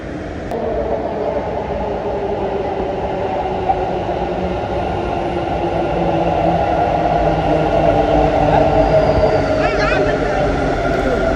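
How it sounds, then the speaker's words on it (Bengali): Bangalore metro train in motion, heard from inside the carriage as a steady low rumble and hum that builds slightly toward the end, with faint squeals. "উঠবো আমরা এখন মেট্রো থেকে নামতে লাগবে আমাদেরকে লালবাগ মেট্রো স্টেশন"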